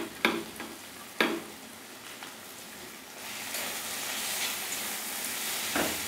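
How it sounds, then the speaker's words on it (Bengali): Garlic and green chilli paste fries and sizzles in hot oil while being stirred, a steady close crackle that swells in the second half, with a few sharp scraping clinks of the spoon early on and near the end. "রসুনের কাঁচা গন্ধটা চলে যাওয়া পর্যন্ত আমি নাড়াচাড়া করব"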